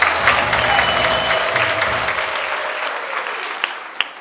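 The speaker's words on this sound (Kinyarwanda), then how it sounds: "Dukomere Yesu amashyi menshi" A church congregation bursts into loud, dense applause that fades gradually over a few seconds, ending with a couple of isolated claps.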